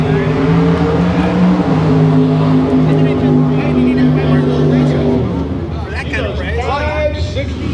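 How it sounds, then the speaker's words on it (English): An old school Dodge Dart launching at a drag race at Irwindale Speedway, its engine roaring loud and steady with droning tones that shift late in the launch, under an announcer talking over the noise. "Take off the old school Dodge Dart."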